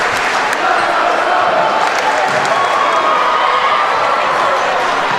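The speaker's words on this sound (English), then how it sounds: "we're getting a standing ovation. Listen to this crowd." A loud home crowd at a varsity boys basketball game, Mechanicsburg at Conestoga, roars with cheers and applause during a standing ovation. The dense, unbroken wall of noise holds at full strength from start to finish.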